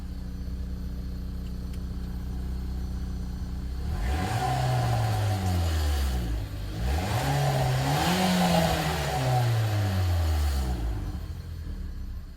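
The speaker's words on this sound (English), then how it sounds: "I'll try and catch a little bit from outside the car in terms of how this car sounds." A Renault Megane Sport GT engine revs up repeatedly, heard from outside the car, rising and falling in pitch through several throttle blips before settling back to idle.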